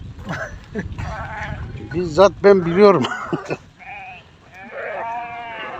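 Goats bleat in short, wavering cries close by in Beşkardeş village, Turkey, interrupted by someone speaking briefly before and after the calls.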